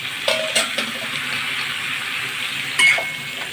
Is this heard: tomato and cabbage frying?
yes